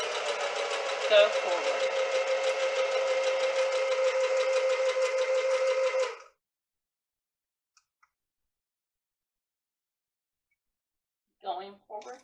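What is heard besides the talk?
sewing machine stitching fabric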